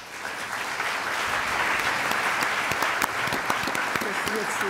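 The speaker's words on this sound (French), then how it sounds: "Je vous demande de l'applaudir." A large audience applauds steadily, dense clapping filling the room at an even level throughout.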